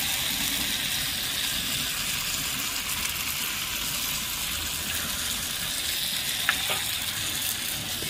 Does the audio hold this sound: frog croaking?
no